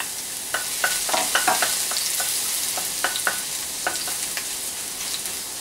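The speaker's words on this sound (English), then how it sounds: "Saute the garlic." Garlic sautés in hot canola oil with a continuous hiss, broken by frequent sharp crackles and spatters, close and moderately loud with no voices.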